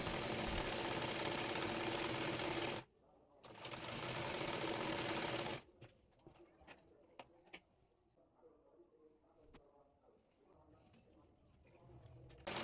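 A sewing machine stitches a kali panel onto palazzo fabric in two loud, steady bursts of whirring, separated by a short pause. Quieter handling noises follow, with faint dove-like cooing in the background.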